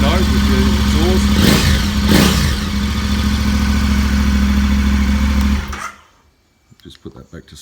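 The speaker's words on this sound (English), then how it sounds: "Got a nice note with the exhaust." KTM 1290 Super Adventure R motorcycle engine and exhaust running at a steady idle with a deep throb, briefly blipped, then shut off, leaving near silence; someone talks over it.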